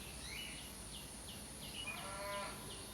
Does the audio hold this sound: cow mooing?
yes